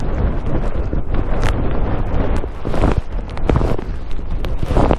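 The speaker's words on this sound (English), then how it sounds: "Still windy." Strong wind on the fells near Great Dodd in the Lake District buffets the microphone, a loud rough roar with gusting bursts and no let-up.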